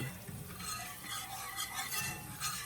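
Flour and butter roux being stirred in a pan, a steady soft scraping and gentle sizzle with no talk, continuous and close throughout.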